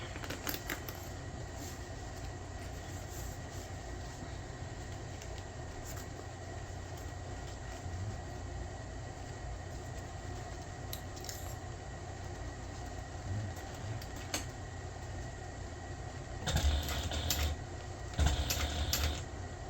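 A sewing machine stitches a backpack in a long, steady run of rapid mechanical whirring and clatter at moderate volume, with brief louder bursts toward the end and no talking.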